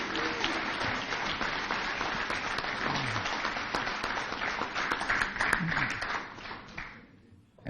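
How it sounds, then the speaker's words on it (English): A hall of fame induction ceremony audience for Indiana football gives a sustained round of applause, dense clapping filling the room at full strength before tapering off near the end. "one more round of applause."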